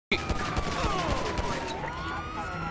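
Gunfire aimed at police in the GTA video game: a sudden loud burst of rapid shots followed by repeated cracks and ricochet-like whines, close and dense for the whole stretch.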